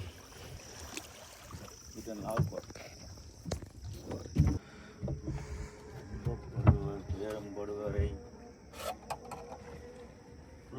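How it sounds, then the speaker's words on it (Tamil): Water sloshes and splashes around a small fishing boat at night amid irregular knocks and wind, with people talking faintly in the background. "போகிறதுக்கு படகு வந்துட்டு படகுல ஏற போகிறேன்"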